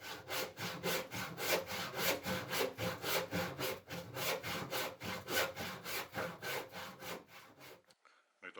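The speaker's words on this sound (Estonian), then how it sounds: "Nüüd on välja saetud jämedalt." Hand saw cutting roughly through wood with knots, for a schooner model, in a fast even rhythm of close rasping strokes that stops abruptly near the end.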